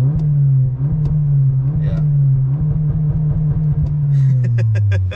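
A Toyota Corolla engine revs hard in neutral up to about 4,500 rpm, a loud, sustained drone that holds high and then eases back down, with short bits of talk and clicks near the end.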